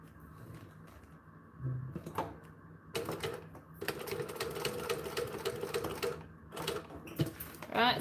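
Sewing machine back stitching through leather, a rapid mechanical chatter in several short bursts with pauses between, fairly close, with a person talking at times.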